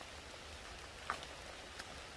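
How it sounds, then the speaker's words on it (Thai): A light rain falls outdoors, a soft, even hiss with a couple of faint drip-like ticks, quiet throughout and with no one speaking. "ตอนนี้บรรยากาศก็ ชุ่มฉ่ำไปด้วยสายฝนนะครับ แต่ตกไม่แรง"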